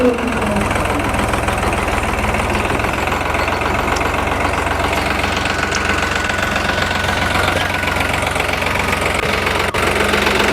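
A tractor engine idles steadily up close on a farm during wheat sowing, its low diesel chugging loud and constant with a faint knocking rhythm throughout.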